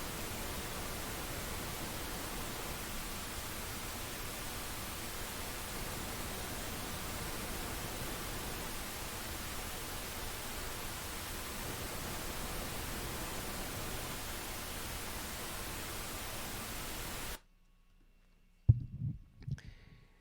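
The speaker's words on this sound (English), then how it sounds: "So here comes the pink noise again" Loud, steady hiss of a pink noise test signal through studio speakers runs unbroken for most of the clip, then cuts out abruptly, leaving near silence with a few faint thumps.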